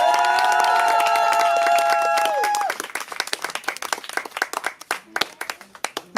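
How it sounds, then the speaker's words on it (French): Audience applause at a slam poetry evening, a sustained burst of clapping with a few cheers under fading sustained tones, thinning into scattered individual claps. "on l'applaudit très très fort"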